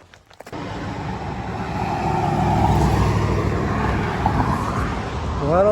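Cars and trucks passing on a road beside a crosswalk near a trail, starting after a short quiet moment, then a continuous loud roar of traffic that swells and fades as vehicles go by, with one rising engine note at the end.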